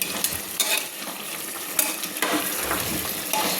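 Chicken curry in a pressure cooker is stirred vigorously, with repeated scraping and clacking strokes of a spoon against the metal pot over a steady sizzle, close and alone.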